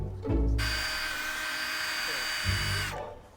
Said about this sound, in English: I use finer and finer papers to grind away the discoloration